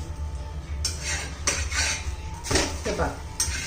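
An egg paratha is flipped in a pan. Metal clanks and scrapes of a spatula against the pan land in a few sharp hits over a low kitchen hum.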